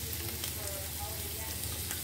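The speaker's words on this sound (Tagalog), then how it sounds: "At haluin natin." Spiced food with sweet pepper, black pepper and cinnamon powder sizzles steadily in a pan as it is stirred, a close, dense frying hiss.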